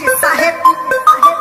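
A mobile phone ringtone plays loud and close, a short bright melodic pattern of repeating tones in quick rhythm, heard alone without talk.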